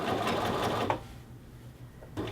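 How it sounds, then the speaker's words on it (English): A sewing machine edge-stitches the collar band of a men's shirt, a dense, close whirring run that stops abruptly partway through and then starts again briefly. "you're just going to continue to sew until you come back to where you began."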